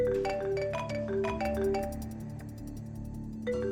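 A landline telephone rings repeatedly and unanswered as an audiobook sound effect, its bright electronic ring tones pulsing in a steady rhythm, clear and alone with no voices.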